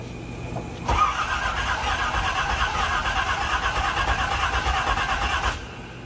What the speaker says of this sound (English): eat dinner and we're going to start the car